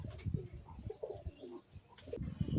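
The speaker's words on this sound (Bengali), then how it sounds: "অনেক সুন্দর কোয়ালিটির একজোড়া কবুতর" A pair of Pakistani highflyer pigeons coo up close in soft, throaty, rolling bursts, repeating in short phrases with brief pauses between, and no one speaking.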